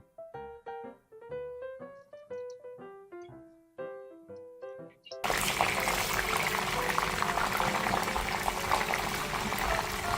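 Salted pointed gourds frying in hot oil, spattering. A melodic music passage gives way abruptly, about halfway through, to a loud, steady, dense hiss of spitting oil that runs to the end.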